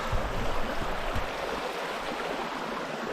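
Water of a brook beside a mountain backpacking trail streams steadily, a continuous broadband rush filling the whole stretch at an even level.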